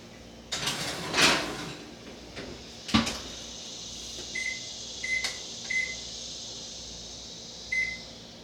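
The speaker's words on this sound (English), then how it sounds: "And now this one going in the oven." A pizza goes into a kitchen oven: a door clunk and rattle near the start, a sharp knock at about three seconds, then several short, faint electronic beeps. No one speaks.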